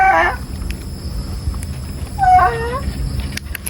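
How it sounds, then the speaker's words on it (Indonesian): Frightened goats on a farm bleating, two short strained cries separated by a pause, loud and near over a low rumbling background. "Kambingnya pada ketakutan kambingnya."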